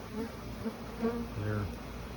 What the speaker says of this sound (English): Bees are a little confused wanting to go in that way